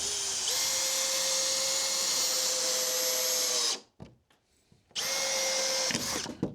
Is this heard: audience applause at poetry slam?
no